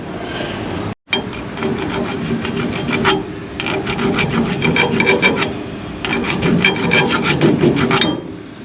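A metal file scraping a burr off the edge of a brake part for a 1994 Chevy truck disc brake conversion, loud close rasping strokes in steady bursts with brief pauses between.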